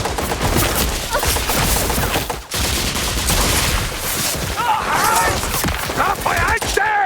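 Sustained automatic gunfire in the Indiana Jones and the Great Circle video game, loud and continuous bursts with crashing impacts throughout, under overlapping shouted voices and a dramatic score.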